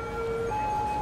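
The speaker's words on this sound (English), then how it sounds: "No, that's the ambulance" An ambulance siren in the Cities: Skylines city-building game wails in a two-tone pattern, shifting once from a lower to a higher steady tone, moderately loud over a quiet background.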